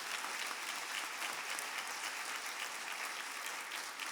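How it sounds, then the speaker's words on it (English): An audience at a university presidential investiture ceremony claps for elected officials, a dense, even wash of applause from many hands lasting several seconds. "you may please rise and accept our applause"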